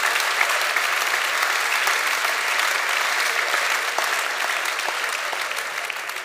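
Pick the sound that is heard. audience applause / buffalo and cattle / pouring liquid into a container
audience applause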